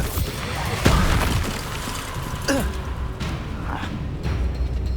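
An Expulso spell explosion in Hogwarts Legacy during a duel lands as a deep, booming blast amid other spell impacts and thuds, with a voice speaking over the combat noise.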